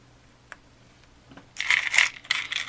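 Metal keys clink faintly at first, then jingle and clatter loudly as they are handled and dropped onto a table, with bright ringing rattles and no talking.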